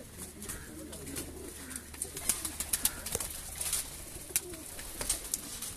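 Breeder pigeons on a rooftop in Sheikhupura coo softly against quiet outdoor background, with scattered sharper calls and wing or perch noises clustering in the second half.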